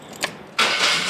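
Big engine of a homemade 10-foot-tall street-legal shopping cart, built in Lancaster County, cranks and catches after a brief faint blip, then settles into a loud, steady close-up running roar.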